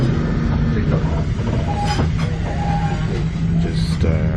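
The Spirit of the Outback diesel train runs with a steady low rumble and rattling wheel noise, heard from close by, with brief squeaks and clicks over a continuous roar.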